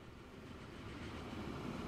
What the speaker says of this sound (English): Oh, we're waiting for that train.